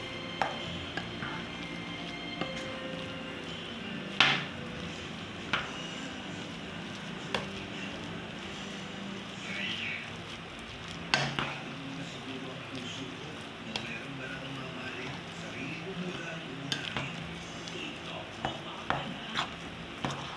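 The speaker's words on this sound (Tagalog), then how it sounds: "Haluin natin hanggang mag-mix yung butter at saka star margarine" Mashed cassava being stirred together with butter, margarine and condensed milk for nilupak, with soft scraping and occasional sharper knocks of a utensil against the pot, steady and close over about twenty seconds.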